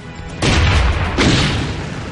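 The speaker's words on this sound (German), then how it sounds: "Eine Verteidigungsgranate zersplittert bei ihrer Detonation über einem großen Areal." A loud, sharp explosion of a defensive hand grenade followed by a second burst and a rumbling decay, close and forceful.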